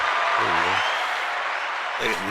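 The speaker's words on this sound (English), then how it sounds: "They got to clap a little louder than that, bro." A studio audience claps steadily at a live show while a voice talks over the applause, which keeps a constant wash of noise throughout.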